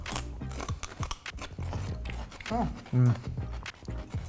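Crunchy bites of celery sticks dipped in thick ranch dressing, a few close, sharp crackling chews scattered through the moment, with people talking over and between the bites.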